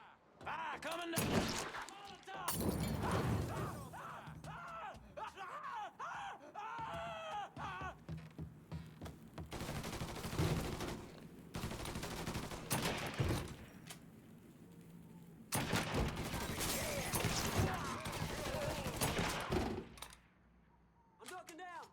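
Gunfire from the video game Mafia III: Definitive Edition, a mob shootout with bursts of shots cracking in clusters over a steady bed of game noise, while players shout over it throughout.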